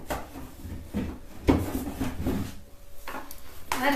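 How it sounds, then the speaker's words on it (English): Wooden drawer pulled out of a piece of furniture being decorated with a transfer, giving a few short scraping, rubbing knocks and a thud, close and fairly quiet. "I'm taking the top drawer out"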